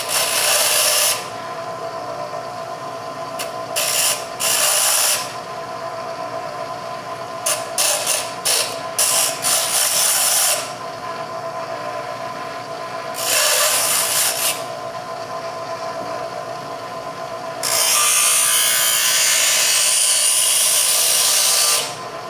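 A grinding wheel shapes feeler gauge steel into a lock pick, giving loud, hissing bursts of abrasive grinding with short pauses between passes, then a long sustained grind at the end.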